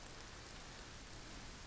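Steady rain falls in a video game, a dense, even hiss of drops that runs without a break at a fairly soft level, with no voices over it.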